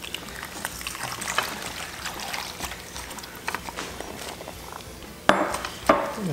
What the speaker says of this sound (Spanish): Vamos a quitarle el exceso de sal con el agua índalo.